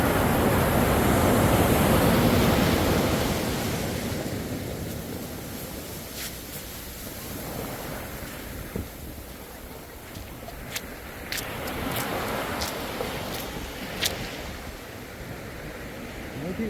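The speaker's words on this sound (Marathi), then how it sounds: "तगडा फ्लो आहे इथे पाण्याला." Waves and rushing water at Cola Beach in Goa while out kayaking, a broad roar of surf that swells early then settles, with wind buffeting the microphone and scattered light splashes and knocks nearby.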